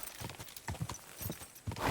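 Horse hooves in Kingdom Come: Deliverance II, a steady clip-clop of hoofbeats at a walking pace, moderately close and clear with no voice over it.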